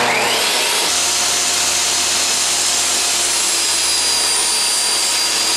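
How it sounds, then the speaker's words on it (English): A table saw rips walnut strips to width, its loud, steady whine rising as the blade bites into the hardwood and holding as one continuous cut. "First, we'll cut our walnut centers down to 3 inches wide,"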